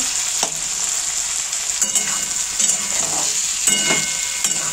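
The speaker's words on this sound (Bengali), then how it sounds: "আর একবার একটু নাড়িয়ে চাড়িয়ে নিচ্ছি।" Fish curry with softened tomatoes is stirred in a pot, a steady sizzle running throughout with repeated scraping strokes of the spoon against the pot, close and fairly loud with no talking.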